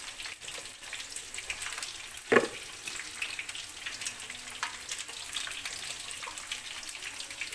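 Chopped onion frying in oil in a pan, a steady close hiss and sizzle with one sharp clink partway through and light crackling throughout.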